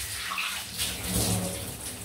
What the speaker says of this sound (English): We'll have to rinse this crap off.